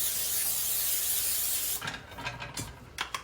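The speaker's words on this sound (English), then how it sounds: "We have a 9x13 baking dish here. I'm gonna spray it really good." A can of cooking spray hisses in one long, close burst into a 9x13 baking dish, then stops, followed by a few short rubbing and clattering sounds.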